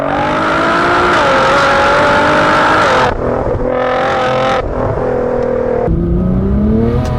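A tuned 660 BHP Litchfield Nissan GT-R engine revving hard and close, repeated throttle blips climbing and dropping with brief lifts between pulls, loud and dominant with no talk.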